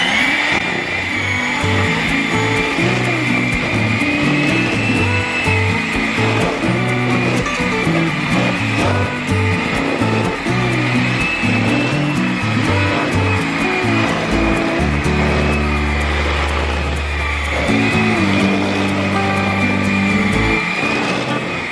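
An electric mixer whirs steadily through a bowl of edible cookie dough made with a pinch of salt, a continuous loud motor drone with shifting pitch and a heavier low churn near the end, no talking.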